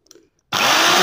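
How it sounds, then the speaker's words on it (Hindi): Power drill boring a hole for a socket in a lead-acid battery case lid, starting abruptly after a few faint handling clicks into a loud, steady close whine. "इस सॉकेट को लगाने के लिए हम यहाँ पे होल कर लेते हैं"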